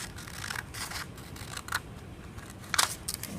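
Scissors snip through paper in short, soft crisp cuts, a few small clicks and rustles spread over several seconds, close and quiet against a faint steady background hiss.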